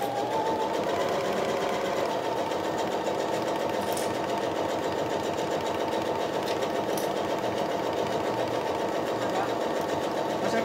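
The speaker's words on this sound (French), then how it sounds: "je vais coudre à 1 cm sur le bord de la pièce en vérifiant que j'ai toujours mon pied aligné" A sewing machine stitches a fabric pouch, running at a fast, steady pace close by, a continuous rapid mechanical whirring and needle chatter with no pauses.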